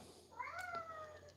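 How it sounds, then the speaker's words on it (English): A cat gives a single short meow indoors in a basement, faint against a quiet room hum. "Yeah, that's the cat"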